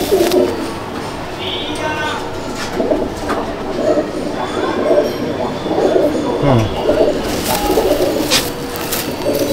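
Pigeons in a racing pigeon loft at Kestopur coo in low, rolling phrases throughout, mixed with someone talking nearby and some background clatter.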